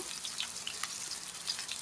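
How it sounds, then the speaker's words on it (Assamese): Chopped onions frying in mustard oil in a hot kadai for an Assamese bottle gourd leaf dish, a quiet, steady sizzle with small crackling pops throughout and no talk. "পিঁয়াজখিনি অলপ ভালকৈ ভাজি ল'ম। পিঁয়াজখিনি দি দিছোঁ।"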